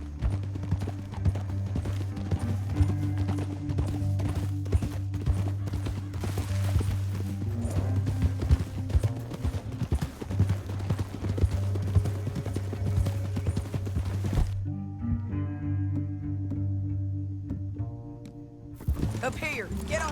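Horse hooves gallop in rapid clip-clop rhythm in the Red Dead Redemption 2 video game, steady and close under an orchestral score, with a brief shift near the end as the music changes.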